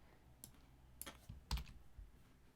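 Quiet typing on a computer keyboard: a few sparse, soft key clicks spread over a couple of seconds with one slightly stronger tap in the middle.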